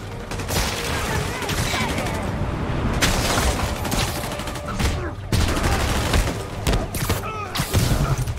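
Rapid bursts of gunfire from a Spider-Man video game, dense and continuous, with sharp volleys and booming impacts throughout and no speech.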